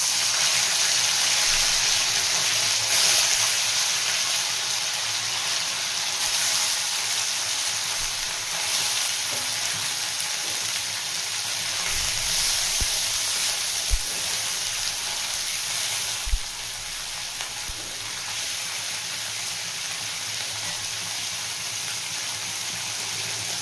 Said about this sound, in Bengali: তেল গরম হয়ে গেছে, প্রথমে পনিরগুলো ভেজে নেব।